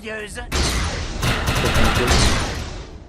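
Gunfire from the video game Defiance bursts in after a brief voice, a dense, loud, continuous volley of shots with rapid repeated cracks.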